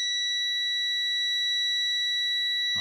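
A multimeter in continuity mode beeps steadily as its probes touch a shorted transistor, one unbroken high electronic tone, clear and close.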